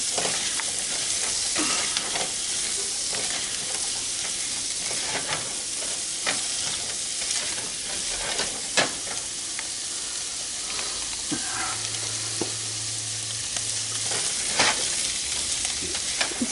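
Onions sizzle and fry steadily in a pan over medium-low heat for shrimp creole, with occasional stirring scrapes and small pops over a constant hiss, close and moderately loud, no voices.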